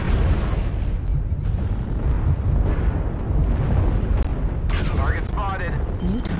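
Artillery strike explosions in MechWarrior Online roll in as a loud, continuous barrage of heavy booms and rumbling blasts, with a voice heard briefly over the din.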